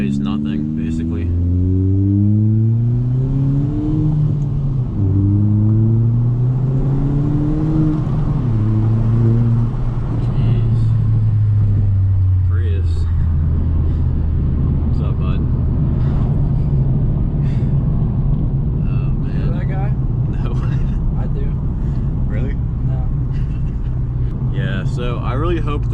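A 2019 Hyundai Veloster R-Spec, a small light turbocharged car, accelerates hard through rising gears with loud engine revs and a turbo blow-off, heard from inside with wind rumble and a person talking.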